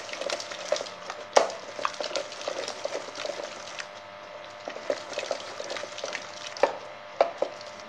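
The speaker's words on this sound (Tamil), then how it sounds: "நான் பருப்பு மத்தை வச்சு கடைஞ்சி காட்டுறேன்" Cooked dal being churned by hand with a wooden dal masher in a home kitchen, a steady soft rhythm of thick mashing and stirring with sharper clacks of wood on the pot every few seconds, close and fairly quiet.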